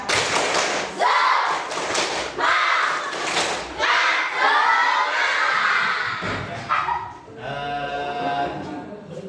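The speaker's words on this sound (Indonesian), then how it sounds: "Kita coba tepuk semangat." A school class doing the tepuk semangat clapping cheer, with loud rhythmic bursts of clapping mixed with children chanting together.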